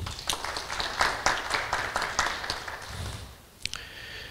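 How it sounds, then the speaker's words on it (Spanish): Scattered audience clapping at the closing ceremony of a university online chess championship in the Puno region, a moderate cluster of individual hand claps that thins out and fades, with no talk over it. "le retribuimos con cariñosos aplausos"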